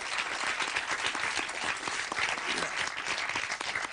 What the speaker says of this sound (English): Give a round of applause to the young people who he's helping every day.